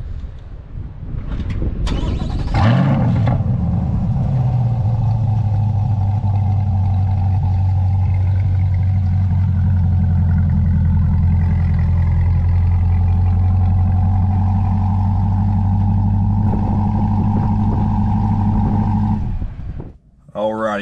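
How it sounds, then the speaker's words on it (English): A 2022 C8 Corvette with a Corsa Xtreme exhaust starts warm: a loud crank and flare, then a steady, deep idle that holds for most of the time before cutting off abruptly, with light noises around the start. "Before we hop in the car, here's gonna be a warm start."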